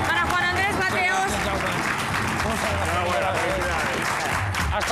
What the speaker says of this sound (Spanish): un aplauso para Juan Andrés Mateos